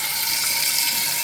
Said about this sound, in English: I'm gonna run that with cool water for a minute